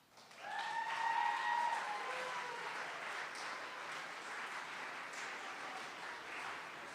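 An audience at a school awards chapel breaks into sustained applause that swells quickly and stays even throughout, with a brief voice rising over the clapping near the start.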